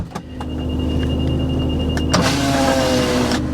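A power window whirs on a stolen 2020 Honda Civic, a close steady electric motor hum that runs for a few seconds, with a sharp thunk partway through as the glass stops, then continues.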